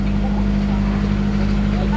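A loud boat engine drones steadily up close, a deep continuous rumble with a low hum that never lets up, on a boat trip near Manjuyod Sandbar, Negros Oriental.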